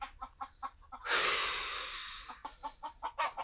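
Chickens cluck in short, regular bursts close by, broken by a sudden loud breathy rush of noise in the middle before the clucking resumes.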